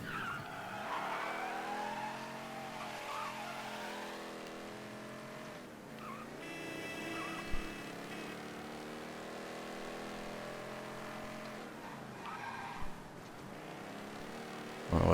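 A car driven hard in Mafia III, its engine revving up and down and tires squealing and skidding through turns, with a couple of sharp knocks and no talking.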